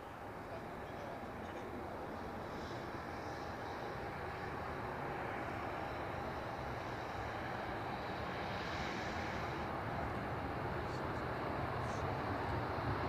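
Airplane departing from Newcastle airport: a steady, distant jet engine roar holding at a low, even level throughout, with faint voices in the background.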